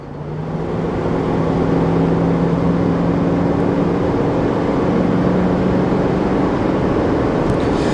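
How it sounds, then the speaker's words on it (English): Pickup truck with Banks Power boost tubes and turbo inlet, towing up a slight incline at wide open throttle in 7th or 8th gear, engine drone rising quickly to a loud sustained roar heard from the cab. "I'm going to give it wide open throttle right now."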